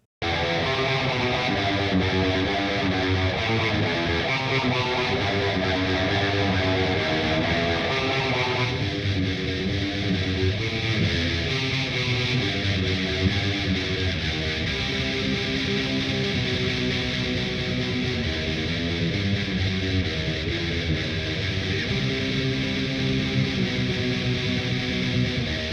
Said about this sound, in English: It sounds like the real tank reverb on the amp.